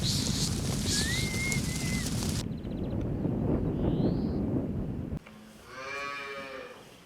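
Cattle on a very large livestock farm moo in a long, drawn-out low call, with outdoor wind noise and other farm sounds around it and a cut to a different scene partway through.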